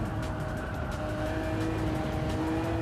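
Car engine in Gran Turismo 7 pulling hard in fifth gear under full throttle, a steady rising drone with harmonic whine, loud and continuous throughout.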